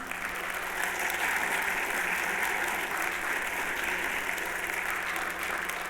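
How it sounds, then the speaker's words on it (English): Sustained audience applause fills a pinball festival seminar room, a dense steady wash of clapping that holds evenly at full strength throughout without letting up. "Can you guys give him a round of applause?"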